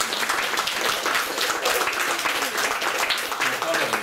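An audience at a talk on peer review in housing services applauds in a dense, even wash of clapping that lasts throughout, with a faint murmur of voices underneath.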